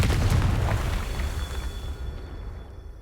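A Confringo blasting-curse explosion in Hogwarts Legacy, a single heavy boom that hits at once and then rumbles away over a few seconds, close and full-bodied.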